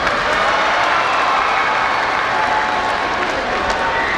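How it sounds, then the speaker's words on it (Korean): An audience at a school writing-contest event in Incheon applauds as school principals are introduced, a full and continuous roar of clapping with a faint crowd murmur underneath. "자 이제 여러분 더 큰 박수를 쳐야 돼요."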